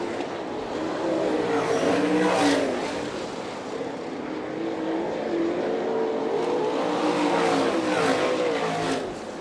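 Sprint race cars roar through turns 3 and 4 on a dirt oval at Fremont, Ohio, during an All Star Circuit of Champions race, a loud continuous engine drone with rising and falling pitch as the cars pass.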